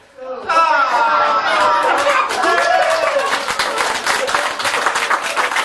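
An audience at a stage hypnosis comedy show breaks into sustained clapping and applause that swells and holds for several seconds, with crowd chatter mixed in.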